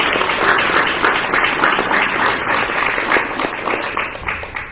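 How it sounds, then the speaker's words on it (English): Enthusiastic audience applause at a political event in Queens, a dense wash of clapping with cheers and whoops layered on top, continuous for nearly five seconds. "Give yourselves a round of applause."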